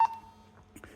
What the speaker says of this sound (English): So it gives us an audible beep.